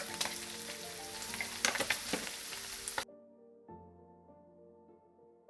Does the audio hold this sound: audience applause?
no